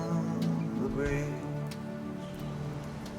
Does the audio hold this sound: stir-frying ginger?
no